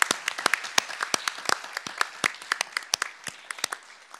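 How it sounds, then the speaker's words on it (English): Scattered applause from a modest audience at a school board meeting honoring parents and teachers, with distinct individual claps rising out of a soft background patter, irregular and fairly close, with no voices over it. "let's give our parents and teachers a huge round of applause"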